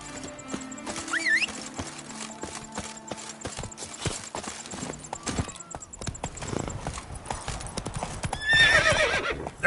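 Roach, the horse from The Witcher 3, trots with close, clear hoof clops on hard ground. A neigh and whinny break in, and chirpy game sounds and a few short spoken words come between the hoofbeats.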